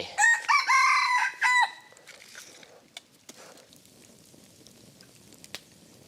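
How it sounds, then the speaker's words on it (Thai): A rooster crows loudly at dusk in a forest camp, two or three close calls in the first seconds, then fading to quiet outdoor ambience with a few faint clicks and distant bird calls. "ตอนนี้ไก่ผมขันละ ขันตอนจะมืด ขันเข้านอน"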